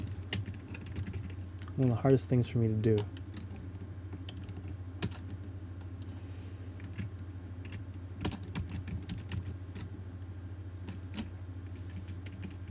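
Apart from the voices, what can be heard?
typing on a computer keyboard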